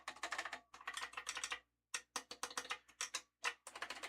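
Fingers type on an Apple III computer keyboard in quick bursts of clicky keystrokes, with short pauses between runs, close and fairly quiet with no talking.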